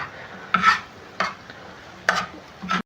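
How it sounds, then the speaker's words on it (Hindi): Minced keema being stir-fried in oil on a flat tawa: four separate bursts of scraping and spatula stirring, each with a quick sizzle, close and fairly loud between quiet pauses. "इस फ्लेम पर मैंने कीमे को भूना है"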